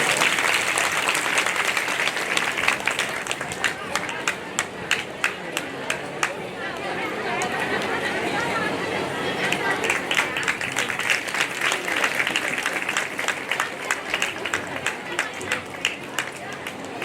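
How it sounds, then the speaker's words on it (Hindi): A large crowd claps continuously to welcome the Avanpur legislator onto the stage at a Tulsi Varsha religious procession event, a long, steady wash of applause mixed with crowd chatter and voices. "ताली बजाकर स्वागत करें विधायक जी का।"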